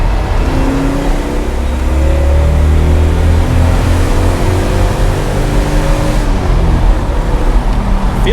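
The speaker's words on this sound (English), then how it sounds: "So I'm gonna downshift it into second. So I'll rev match it." A 1976 Datsun 280Z engine blips and revs as the driver rev-matches a downshift into second, a loud, steady close engine drone with rising and falling harmonic tones inside the cabin.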